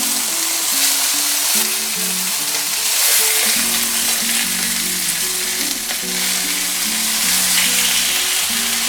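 Salmon fillets sizzle loudly in a frying pan just after being flipped, giving a steady close crackle and hiss with a soft melodic tone running underneath.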